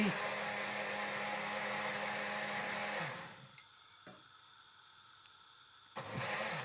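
A blender grinds mint, coriander and ghee in a loud, steady whir for about three seconds, then cuts out into near quiet before a short burst of motor noise returns at the end.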